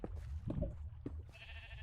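Blocky sheep in Minecraft let out a few short bleats, quiet and spread across under two seconds, with faint game background sounds around them.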